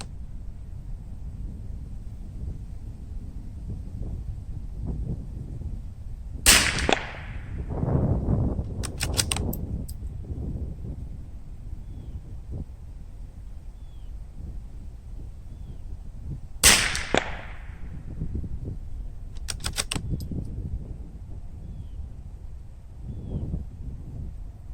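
Mossberg 802 Plinkster .22 rifle firing CCI standard 40-grain subsonic rounds, two sharp cracks about ten seconds apart, each with a short ringing tail and a fainter clatter after it, in a quiet outdoor setting.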